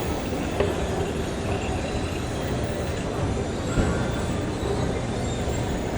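An MRT train runs with a steady, loud rumble of wheels and carriage noise, with faint clicks and a brief squeal in between.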